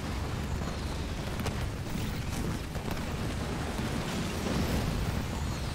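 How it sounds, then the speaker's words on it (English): Repeated explosions from Hornet aircraft in the real-time strategy game Halo Wars 2, heard as a dense, continuous rumble of booms and bursts that stays loud throughout without a pause. "He's trying to run the hornets over there for the explosions."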